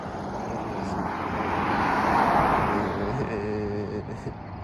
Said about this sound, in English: the car drove by me